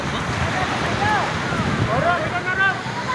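Steady roar of waves and wind rushes around a boat in rough seas near Baluti beach, with people's voices and shouts partly buried in the noise.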